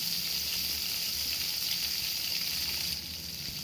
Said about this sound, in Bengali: তার ভিতরে আমি সেই পেঁয়াজ রসুন বাটাটা দিয়ে দেবো।